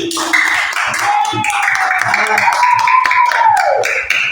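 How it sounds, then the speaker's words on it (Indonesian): A classroom of students claps for a classmate, a scattered, uneven patter of hands heard under and alongside a voice talking in the room. "tepuk tangan untuk Rai"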